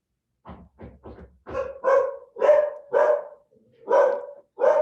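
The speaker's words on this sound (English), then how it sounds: "my dogs are barking" Dogs bark at home, a string of sharp close barks opening with quick yips and settling into a regular rhythm of loud, full barks with short gaps, without voices.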